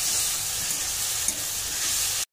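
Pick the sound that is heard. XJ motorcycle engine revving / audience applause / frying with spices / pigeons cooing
frying with spices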